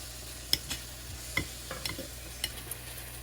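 Masala frying in a pan for palak paneer, soft sizzle under sharp clicks and scrapes of a spoon stirring at irregular intervals, close and fairly quiet with no talking.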